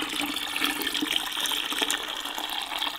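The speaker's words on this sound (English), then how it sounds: "what we're going to do is literally just pour this right on top of our eggs" Preserving liquid is poured over eggs in a jar, a continuous gurgling, splashing pour that stays loud and steady for several seconds, close up, with no voices over it.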